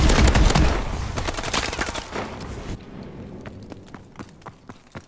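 Shotguns fire repeatedly in Call of Duty: Advanced Warfare, loud close blasts crowding together at first, then sparser, quieter reports trailing off, with no talking.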